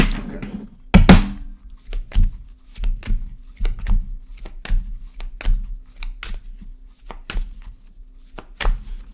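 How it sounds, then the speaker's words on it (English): Tarot cards shuffled by hand in a series of soft, quick riffles and taps, repeating in an irregular rhythm close by, with no talk over them. "One more shuffle."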